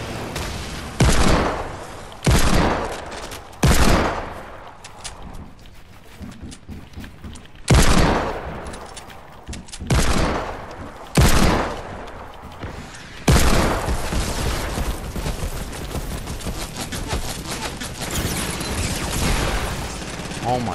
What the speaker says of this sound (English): Oh my god, dude, these people are shooting him down.